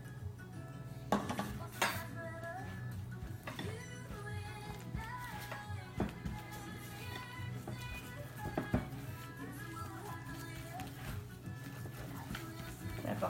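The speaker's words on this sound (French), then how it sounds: "Puis là, on brasse." Keto bagel dough mixture with almond flour and baking powder being stirred in a bowl, with repeated clinks and scrapes of a utensil against the bowl, close and irregular, over a faint steady hum.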